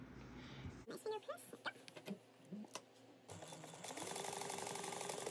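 A sewing machine runs steadily as it top stitches fabric 1/8 inch from the edge on a Brentwood pattern garment, starting after a few soft handling clicks and bumps and then humming continuously and fairly close.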